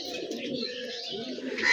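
Young pigeons released at a loft, a flock of nine chicks scrambling as they go, with steady soft cooing and chirping calls throughout, faint and unbroken, growing slightly louder at the end.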